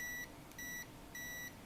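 A continuity tester checking a DC reverse-polarity adapter cable gives three clear, evenly spaced electronic beeps, each lasting about a quarter second, over quiet background hiss.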